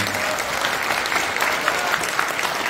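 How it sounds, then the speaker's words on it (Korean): Dense applause from an audience at a church prayer breakfast held in the National Assembly, continuous and fairly loud with individual claps popping through the steady wash. "여러분 다시 한번 박수 부탁드립니다"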